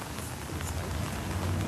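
Steady rain patters on a car in a continuous, even hiss, fairly soft and close, with no voices.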